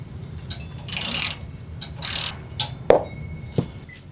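A ratchet turns a 10mm socket on an ABS sensor bolt at the rear axle housing of a Toyota Land Cruiser 100 Series, giving short close clicking bursts with small metallic knocks in between.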